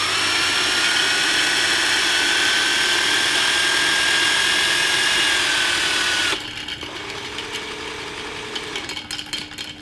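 Power drill spinning a threaded rod on a DIY alternator build, a loud steady high whine for several seconds that cuts off abruptly, followed by quieter rattling and clicking.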